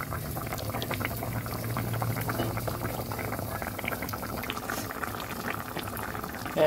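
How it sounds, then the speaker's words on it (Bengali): Koi fish curry with potatoes boiling in a pot, a continuous bubbling simmer heard up close at an even level, with no talking. "সুন্দর ফুটে উঠেছে"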